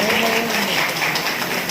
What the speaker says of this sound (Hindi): एक बार ताली बजा के आशीर्वाद देना।